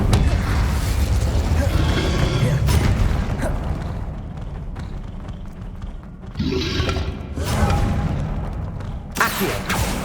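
Incendio fire spell in the video game Hogwarts Legacy: a loud, continuous roar of combat effects, with a forceful burst of flame about two-thirds of the way through and another near the end.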